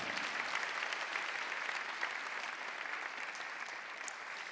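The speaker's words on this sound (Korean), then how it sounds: "큰 박수로 축하해 주시기 바랍니다" A church congregation applauds steadily at a Sunday service, dense clapping from a large crowd filling the room evenly from start to finish.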